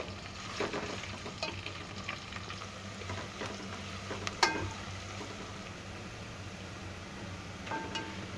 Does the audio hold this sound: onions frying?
yes